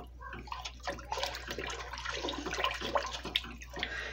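Homemade chicken broth splashes and trickles into a soup pot at close range, a soft, continuous liquid pour that stays fairly quiet.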